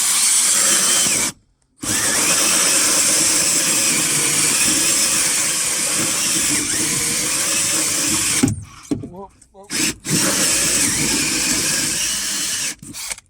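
A hole borer whines loudly and continuously drilling through a van's wooden and metal floor, cutting out briefly a few times before grinding on again, close by.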